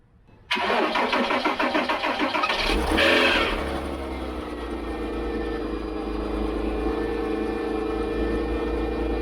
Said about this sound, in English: my 2001 Porsche Boxster. Note, this is like a super cold startup.